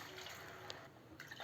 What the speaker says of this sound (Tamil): அதுக்கு 3 கப்புக்கு தண்ணி சேர்த்துக்கலாங்க.